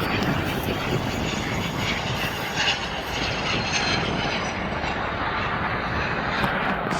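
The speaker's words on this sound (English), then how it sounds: "That same A330 is taking off." An Airbus A330 airliner taking off at Atlanta's international airport, a broad, steady engine roar heard from a distance that holds evenly throughout, with no talking.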